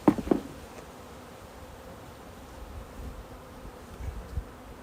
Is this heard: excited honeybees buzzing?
yes